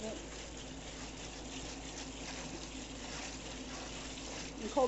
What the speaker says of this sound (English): We're going to rinse it, get all that starch off of it.